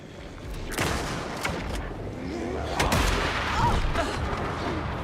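An enemy firing a rifle in Alan Wake 2: several loud gunshot cracks ring out over a dense, rumbling backdrop of game ambience, with no talk.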